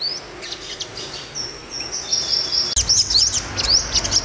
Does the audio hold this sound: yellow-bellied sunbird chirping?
yes